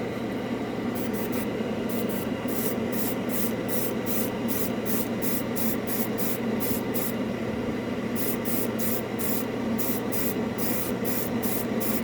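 An airbrush sprays AK Interactive Xtreme Metal copper paint, a steady close hiss running throughout with rapid rhythmic pulses of air as the trigger is worked.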